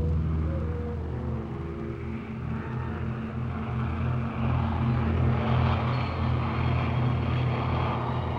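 A steady, droning aircraft engine with propeller hum, fairly loud and continuous, building slightly toward the end with no voices.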